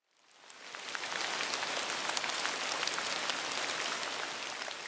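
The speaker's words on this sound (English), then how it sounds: "Raindrops patter against the tops of the tallest trees." Steady rain falls on a rainforest canopy, a dense, even hiss of countless drops that fades in and then holds at a constant level with no voices.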